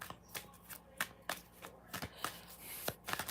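Tarot cards are shuffled by hand in a quiet room, a close, soft series of quick papery riffles and taps in an uneven rhythm, with no talk.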